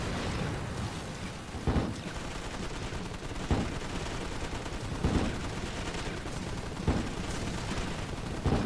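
Gunfire aimed at infantry in the toy-soldier war video game Attack On Toys, a steady stream of distant rattling shots punctuated every couple of seconds by sharper, louder blasts, with no talking.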